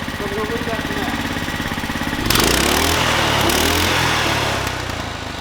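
A Trailmaster Mid XRX-R go-kart engine idles a little high, with a steady close mechanical putter. Partway through, a louder, rougher burst of engine noise takes over and continues to the end.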